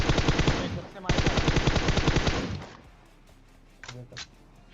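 Rapid automatic gunfire in PUBG Mobile, two dense sustained bursts of tightly spaced shots, loud and close, followed by a quieter lull with a couple of short sharp clicks near the end.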